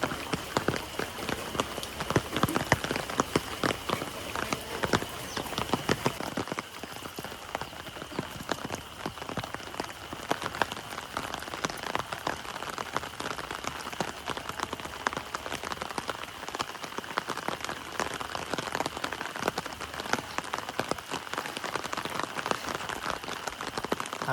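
Steady rain pours down, a dense continuous patter of drops striking surfaces, loud and even throughout with no talking.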